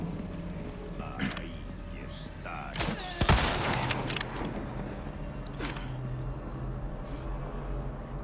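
Gunfire in the Resident Evil 4 Remake video game, a sharp loud burst near the middle among scattered clanks and game effects, with a person talking over the action.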